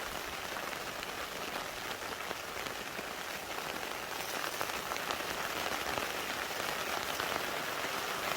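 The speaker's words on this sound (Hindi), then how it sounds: "आवाज़ सुनिए बारिश की, सुनाता हूँ।" Steady rain drumming on a wedge-shaped rooftop tent during an overlanding trip, a dense, continuous patter heard close and alone without any talk.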